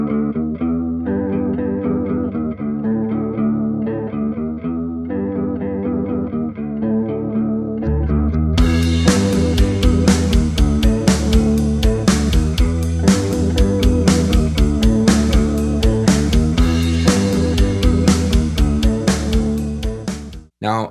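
An electric guitar through a Walrus Julia chorus pedal plays a clean, shimmering riff, then the full band kicks in with distorted, driving rock chords and drums until an abrupt stop.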